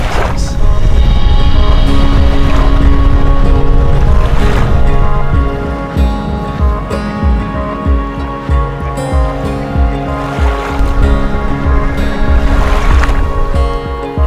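A boat travels along the Pánuco River in the Gulf of Mexico region, its steady engine drone and churning water forming a loud, continuous wash with faint wind noise throughout.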